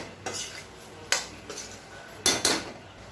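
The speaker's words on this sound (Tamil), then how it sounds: "நல்லா கலந்து விட்டுட்டு மூடி வச்சிடலாம்" A spoon scrapes and clatters in a pan while egg masala is mixed, giving a few sharp metallic knocks and scrapes up close, and a lid goes over the pan, with no voices.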